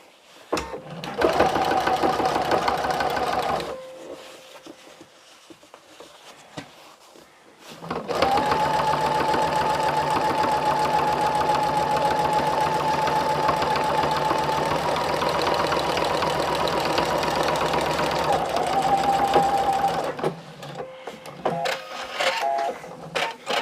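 A sewing machine stitches the last seam of a jacket pocket lining, running loud and close in a steady whirring hum for a few seconds, pausing, then stitching continuously for a long stretch before stopping.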